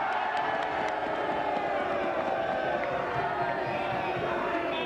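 A crowd at a February 1974 election gathering cheers and applauds a Labour vote, a steady, dense roar of voices and clapping that holds evenly from start to finish at moderate distance.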